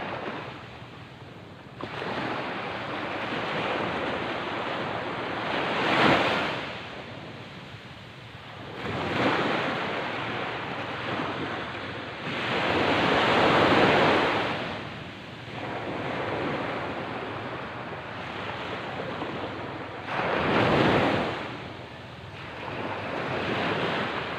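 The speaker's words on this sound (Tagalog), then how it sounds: "Ang aming dagat." Ocean waves surge and break in slow repeating swells, with a steady rush of surf and some wind buffeting the microphone between the louder crests.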